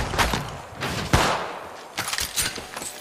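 Apex Legends Mobile gunfire comes as a few sharp close shots and a short rattling burst, loud and punchy, with brief pauses and no one talking.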